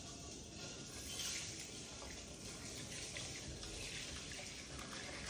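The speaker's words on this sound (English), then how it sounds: "I'm going to slowly pour the lye into the water" Lye being poured slowly into water in a stainless steel or Pyrex container and stirred to dissolve for liquid castile soap, a steady continuous trickling, running-water wash at moderate level throughout, with no talking.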